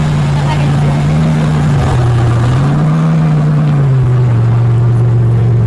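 A toy race car's engine-revving sound plays loud and continuous, a steady buzzing drone whose pitch dips, swells and dips again as it revs.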